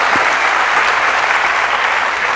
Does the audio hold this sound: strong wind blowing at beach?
no